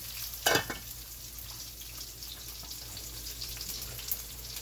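Steady sizzling and crackling of a lobster tail frying in a hot pan, with a brief louder splatter near the start and a faint low hum underneath.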